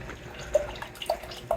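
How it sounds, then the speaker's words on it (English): Humble Crumble, a fruited sour wheat ale from Forbidden Root, pours fizzily into a glass: a soft, low liquid trickle with a few faint drips and splashes, no talking. "And that's pouring out kind of like fizzy orange juice or fruit juice"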